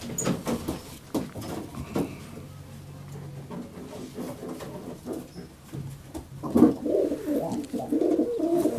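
Pigeons coo in low, throaty murmurs close by in a coop, with rustling and shuffling around them and no clear speech.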